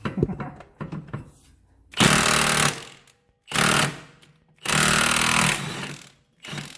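An impact wrench hammers at the crank pulley bolt of an Acura NSX during engine removal, firing four loud, harsh rattling bursts separated by short pauses, after a few quieter clanks at the start.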